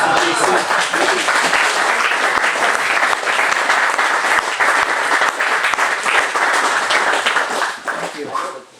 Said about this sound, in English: Now when I hear the applause, I start thinking Conacle.